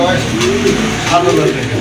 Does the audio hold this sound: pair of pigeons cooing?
yes